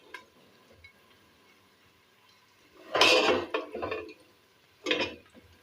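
Cooked okra moved from a pan onto a plate, a quiet stretch followed by two close bursts of clinking and scraping dishes and utensils.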